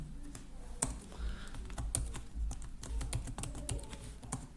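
Keys on a computer keyboard are tapped in quick irregular bursts, with a few sharper clacks, close and fairly quiet against a soft background.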